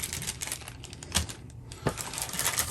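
Gold coin tokens from the Western Legends board game being handled, giving a steady run of light metallic clicks and jingles, with a couple of louder clinks standing out close by.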